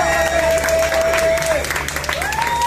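Brief burst of applause and cheering from a rock festival crowd greeting the organ player, mixed with a sustained organ tone and stage hum.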